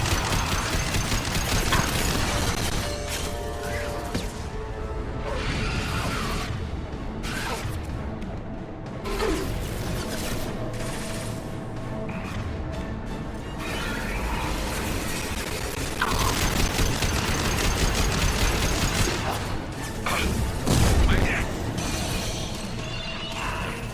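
Gunfire in Mass Effect 2 during a combat mission behind enemy lines: sustained, dense bursts of weapon fire mixed with mechanical clatter and impacts, loud and continuous, with no voices.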